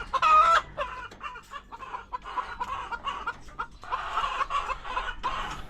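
Several chickens cluck and squawk close by in uneven bursts in a chicken coop, with a louder squawk at the start and no talking.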